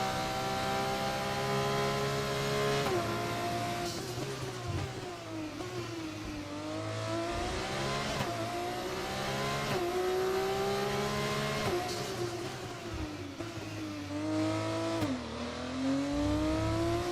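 Formula 2 race car in F1 24, engine screaming loud and steady through repeated upshifts and downshifts, revs rising and dropping in waves with brief tire squeal, no voices.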